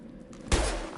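A single gunshot-like blast in Mass Effect ship combat, a sharp thump about halfway through followed by a short rumbling tail, heard alone over low background noise.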